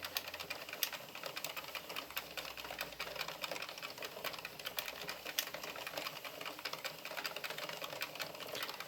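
An Addi Pro knitting machine cranked at a steady, even pace to knit rows, with a fast continuous run of light clicking and clattering close by, fairly quiet and without talk.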